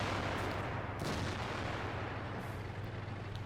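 Tank cannon fire in World of Tanks while driving the Chinese 112 premium heavy tank, a dense roar of booming shots over continuous engine rumble, with no talk.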